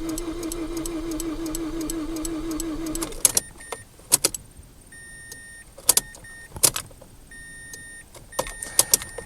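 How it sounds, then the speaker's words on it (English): Fuel pump priming on a Mazda 6 with a no-crank, no-start fault, heard as a steady electric hum from the pump. It cuts off, followed by several sharp ticks and clicks as the ignition is cycled. "Letting that fuel pump prime a couple times."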